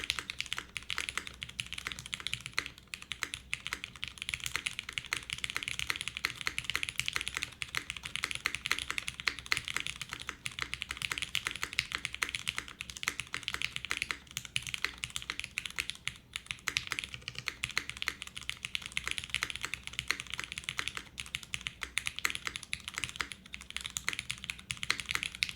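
Fast, continuous typing on a gasket-mounted ORI CLS-3//88 keyboard built with an aluminum plate, Cherry stabilizers and no foam, giving a dense, steady stream of close keystroke clacks with no pauses.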